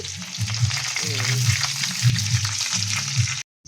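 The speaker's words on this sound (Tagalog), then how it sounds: "Guys, igisa-gisa na natin." Onions and garlic sauté in a hot frying pan: a loud, continuous close-up sizzle with soft stirring scrapes, cutting off abruptly at the end.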